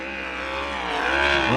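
A USAC sprint car with inverted headers races around the Circle City track, a loud, raw engine drone rising in pitch as it passes, heard over faint background noise.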